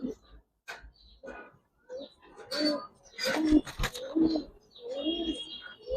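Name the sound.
silver coloured pigeon cooing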